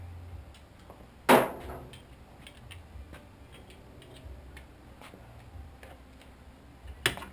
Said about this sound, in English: Get my speed handle out.